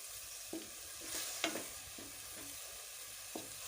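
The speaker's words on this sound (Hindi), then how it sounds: "मैं इसे 2 मिनट के लिए इकट्ठा फ्राई करी हूँ चिकन के साथ" Peas and chicken fry together in a pan, giving a steady low sizzle with occasional soft scrapes and stirring knocks, close and moderately quiet, with no talking.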